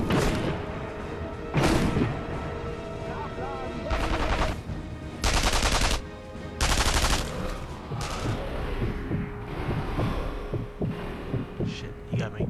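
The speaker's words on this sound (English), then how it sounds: "Who's shooting me now?" Gunfire in the video game Sniper Elite V2 comes as several loud bursts of shots and rattling fire spread across the stretch, with a low hum and quieter game noise between them.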